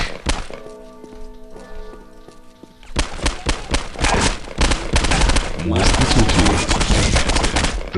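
Rapid M4 rifle fire in the video game Postal 2 erupts after a quieter tonal stretch, with sharp repeated shots building into dense automatic bursts, loud and close, and a voice speaking at times.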